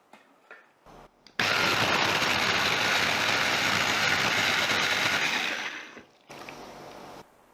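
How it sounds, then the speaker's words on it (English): A blender whirs loudly for about five seconds as pandan leaves blend with water, starting abruptly after brief handling noises and then winding down to quiet clatter. "Let's blend the pandan leaves with water."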